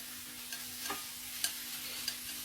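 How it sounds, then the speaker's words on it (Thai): Pork neck stir-fries in a pan for a Thai gaeng om curry: a quiet, steady sizzle with a few distinct scraping strokes of a spatula. "ผัดหมูไปสักพักหนึ่งครับ"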